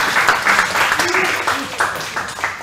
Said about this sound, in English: Give you a big round of applause for them.